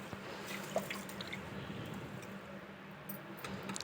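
Two glasses of rice are washed in water, with soft close sloshing and dripping and a few small splashes at low level.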